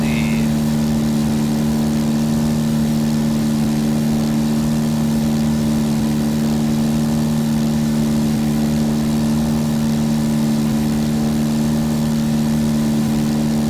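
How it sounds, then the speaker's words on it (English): A single-engine four-seat private plane in X-Plane 10 drones continuously at a steady, even pitch throughout, a constant mid-heavy engine hum with no pauses. "being in a private plane, a single-engine four-seater."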